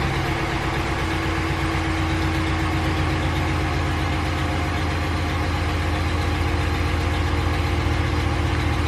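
A Dodge Ram 1500 with a Hemi V8 and a misfire problem idles steadily up close, a continuous low rumble with a faint light tick running through it and no one speaking.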